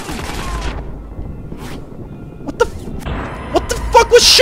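Gunfire in the video game Watch Dogs comes as a few sharp, scattered shots and bursts, close and loud, separated by quiet gaps and with more activity toward the end.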